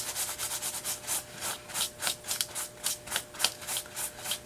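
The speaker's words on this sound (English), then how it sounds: "Rubbing the surface." Close, rhythmic rubbing strokes across the surface of an air dry clay leaf bowl, each a steady scratchy swipe repeating about three times a second with no talking.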